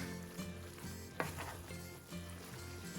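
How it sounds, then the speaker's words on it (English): Fenugreek leaves and peas sizzle steadily in a pan while being stirred, with a sharp clatter of the spoon against the pan near the middle and softer scraping throughout; no voices. "I'm going to mix this up and then cover and cook this for 5 minutes."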